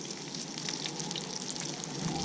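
Bullhead fish frying in hot grease in a Griswold cast iron skillet outdoors in the woods, a soft, steady crackling sizzle heard close without talk.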